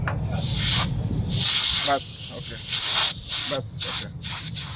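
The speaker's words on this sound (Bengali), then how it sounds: "এই যে দেখুন আমরা একটু গ্যাস খুলে দিচ্ছি" Refrigerant gas hissing out of the valve of a split air conditioner's outdoor unit during installation, a loud steady spray-like hiss in bursts while someone talks over it.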